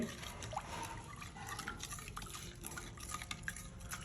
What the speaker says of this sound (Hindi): फिलहाल मैं इसको चम्मच से मिक्स कर रहा हूँ